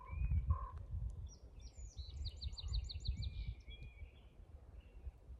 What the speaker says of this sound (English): the birds and everything, it's just such a good calming sound